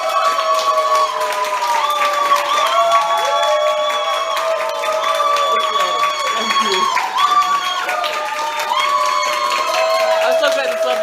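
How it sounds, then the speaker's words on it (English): A large crowd at a one-day web marketing masterclass cheers and shouts continuously, voices overlapping in a loud, sustained roar with faint clapping mixed underneath. "Everyone give yourself a huge round of applause."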